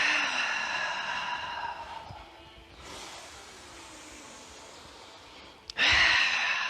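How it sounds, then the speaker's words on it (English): Slow, deep breathing during an all-levels yoga flow: a long drawn exhale, a quieter breathy inhale, then a sharper loud breath at the end, close and alone without talk. "Inhale up. Exhale down."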